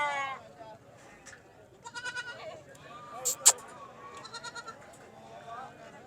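A goat bleats several times amid a busy livestock market in Talagang, Pakistan, its calls rising over constant crowd chatter and nearby voices, with a couple of sharp clicks in the middle.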